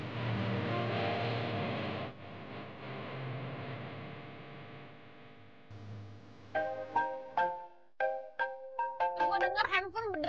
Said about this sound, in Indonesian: Gue denger handphone berdering mulu